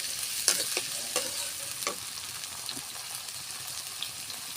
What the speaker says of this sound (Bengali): আমি সুন্দর করে পেঁয়াজ রসুনটা নাড়ে ভাজা ভাজা করে নেব।